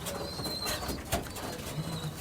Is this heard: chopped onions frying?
no